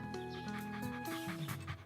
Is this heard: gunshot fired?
no